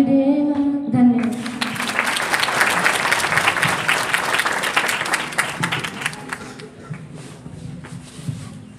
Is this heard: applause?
yes